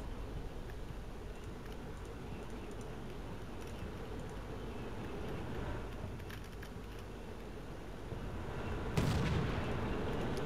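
Distant gunfire and artillery in the war game Combat Mission Shock Force 2, a low continuous rumble of shots with a sharper burst near the end.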